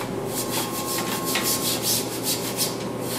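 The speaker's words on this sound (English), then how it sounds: "just take the brush and go ahead and give it a quick brush over just to work some of that in" A soft bristle brush scrubs a filter, making a close, continuous rough rubbing with short repeated scratchy strokes and no voices.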